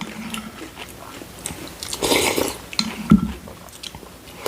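Crunchy turmeric-flavoured scorched rice (nurungji) is bitten up close, with a few sharp, brittle cracks and crunches followed by chewing, and no talk.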